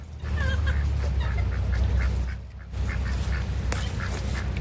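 A pet duck-like bird with clipped feathers quacks and honks repeatedly at a forest camp, moderately close over a steady low outdoor rumble.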